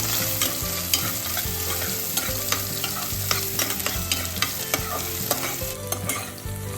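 Small onions sizzle steadily in hot oil while a utensil scrapes and stirs the pan with repeated clicks, close by and without talk.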